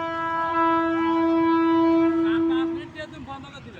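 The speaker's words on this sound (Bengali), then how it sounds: "এই যে ট্রেন এসে গেছে, আমরা এখন ট্রেন দেখতে যাচ্ছি" A train arriving sounds a long, steady horn blast that holds for almost three seconds, then cuts off and leaves a low rumble with faint sounds around it.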